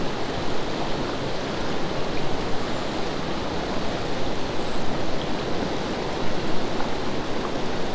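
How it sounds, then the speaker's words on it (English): A shallow river rushes steadily as people wade across it, a constant loud broadband wash of flowing water with no breaks and no talking. "It's like a raging river."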